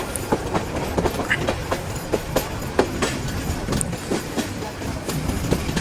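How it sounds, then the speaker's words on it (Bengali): Rangpur Express passenger train runs fast along the rails, heard from on board as a continuous rumbling roar with rapid, rhythmic clickety-clack of wheels over rail joints. "ট্রেন কিন্তু অনেক জোরে যাচ্ছে"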